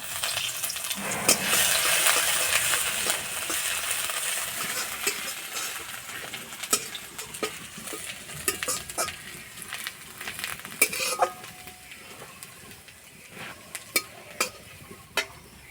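Grated garlic and ginger frying in hot oil in a home kitchen while preparing a cabbage-stuffed kachori filling, a steady close sizzle with scattered spoon scrapes and clinks against the pan, no talking.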